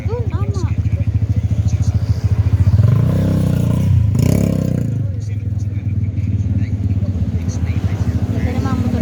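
Motorcycle engine idling and revving nearby, a steady pulsing putter that swells briefly, under people talking.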